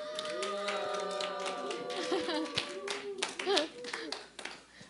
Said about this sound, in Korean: 우리 간증자 나올 때 우리 환호로 맞아주세요